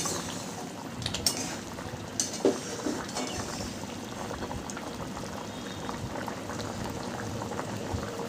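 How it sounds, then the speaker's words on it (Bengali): Lentils (dal) with a little water boil in a covered pot for sambar, producing a steady, close bubbling simmer with scattered small pops and occasional faint clinks. "এখন ডালটা ফুটে উঠেছে"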